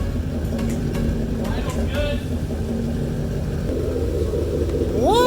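A Ford Mustang GT fitted with new Stainless Works headers idles with a steady low rumble, while people talk over it.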